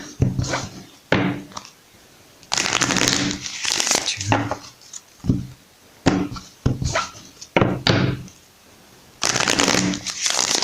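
Crisp bursts of oracle card shuffling repeat three times, each a riffling flutter of stiff paper, close and fairly loud, with brief pauses between.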